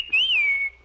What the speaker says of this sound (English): That was a dog whistle.